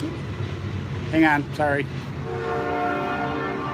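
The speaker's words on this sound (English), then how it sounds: "Noisy train going by." A noisy train rolls past close by, its horn sounding loud and steady with the rumble of the rail cars beneath it, while a person briefly speaks over it.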